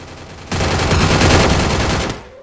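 Rapid automatic gunfire in the Free Fire video game, a loud sustained burst of shots lasting about a second and a half before stopping abruptly, with no talk over it.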